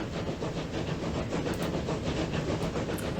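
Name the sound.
train arriving at the station in the video game Transport Fever 2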